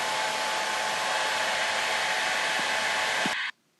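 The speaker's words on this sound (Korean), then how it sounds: "드라이기가 이렇게 위쪽 방향으로 공기가 올라갈 때" A hair dryer blows air straight upward to keep a light ball floating, a loud, close, steady whooshing drone that runs unbroken and then cuts off abruptly at the end.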